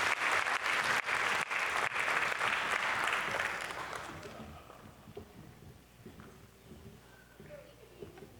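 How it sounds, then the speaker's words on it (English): A big round of applause from the audience at a 2024 STEM fair awards ceremony for the winners: loud, dense clapping that holds for several seconds, then fades out as a voice starts to speak. "a big round of applause"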